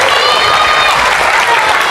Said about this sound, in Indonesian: Tepuk tangan semuanya.